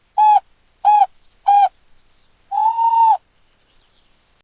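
An owl gives three short, evenly spaced hoots followed by one longer drawn-out hoot. The calls are loud and close against silence.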